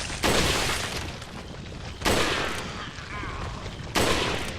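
Gunfire in the video game Resident Evil 4, three loud separate shots about two seconds apart, each a sharp blast with a decaying tail over steady background game noise.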